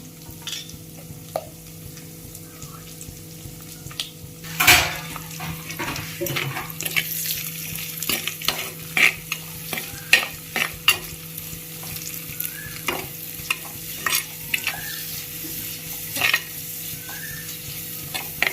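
Chopped onions fry in hot oil with curry leaves, giving a constant close sizzle broken by frequent stirring scrapes and occasional clacks of the spatula against the pan, with no voices.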